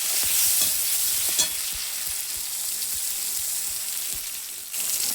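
Hot oil sizzles steadily in a pan after frying katla fish for a mustard and poppy seed curry. The crackle is close and constant, with one brief louder pop and no talking.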